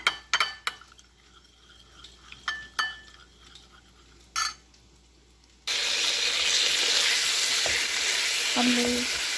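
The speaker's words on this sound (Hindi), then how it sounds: "हमने जो चिकन मैरिनेट किया था उसको पैन में डाल दिया" Marinated chicken for garlic noodles hits a pan: a few clinks of utensils and glass first, then a sudden loud, steady frying sizzle fills the rest, with no talk.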